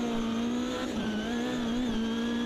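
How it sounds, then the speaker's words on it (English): A Ginetta G55 GT3 race car in Automobilista 2 at Kyalami, droning steady engine note with a high wavering whine, continuous and fairly loud, with slight pitch dips as the car loses grip and spins. "He literally just spun me."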